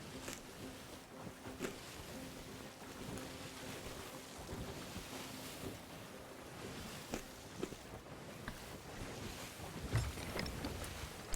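Boat sailing over ocean waves in the game Sea of Thieves: a constant soft wash of water and wind, faint and steady, with light creaks and splashes scattered through.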